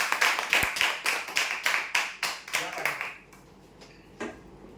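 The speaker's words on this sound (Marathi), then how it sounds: "जोरदार टाळ्या उद्या त्यांच्यासाठी" Roughly a dozen hard, distinct claps from a small group at a weekly prize draw, the bursts fading out after about three seconds, followed by a quieter stretch and one final clap.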